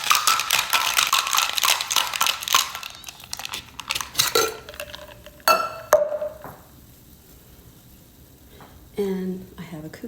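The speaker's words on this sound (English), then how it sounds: "Give it a good shake." Ice cubes rattle and clatter in a cocktail shaker being shaken for a French 75, a dense burst of clinking for a few seconds, then scattered glassy knocks and clinks of barware with sparse talk.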